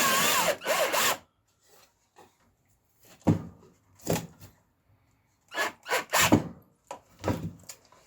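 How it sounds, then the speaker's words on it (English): Short, loud bursts of a power drill cutting a countersink into wood, several separate runs with silent gaps between them, close up. "I don't want to drill it all the way through."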